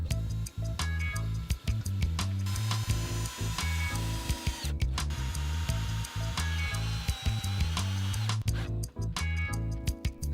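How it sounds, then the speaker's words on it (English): A power tool drives screws to fix a metal anchor plate onto a wooden pool console, heard as repeated short whirring runs close by, separated by brief pauses and clicks. "You can now screw the metal anchor plate on top of the console."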